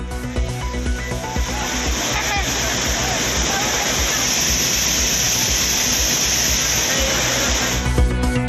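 Courtallam waterfalls in heavy flood after continuous monsoon rain, a dense, steady roar of rushing, crashing water that stays loud and unbroken throughout, with no pause.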